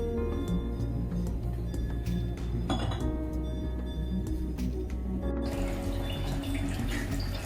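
Channa masala boils in a pot, giving scattered soft pops and clinking bubbles over a low, steady hum from the stove area.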